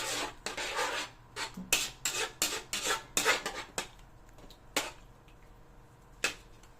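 Sweet and sour meatball sauce stirred in a pan, a series of close scraping and clinking strokes of utensil against the pan in an uneven rhythm, then a few isolated taps.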